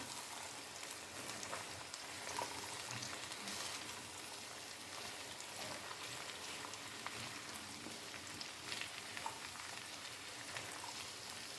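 Beef and vegetables cook in a stir-fry pan, giving off a continuous soft crackling sizzle like light rain, with occasional faint stirring scrapes and no voices.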